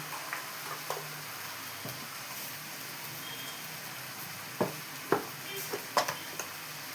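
Spices stirred in a frying pan for Tirunelveli poruma kuzhambu, a steady quiet sizzle with a few soft scrapes and taps of the spoon near the end.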